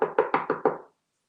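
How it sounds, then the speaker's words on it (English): Five firm knocks on a door in a quick, even rhythm, close and clear, then silence. "He heard a knock on the door."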